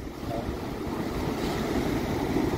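Soft, steady wash of water lapping and sloshing in a tunnel, a low continuous murmur with no voices.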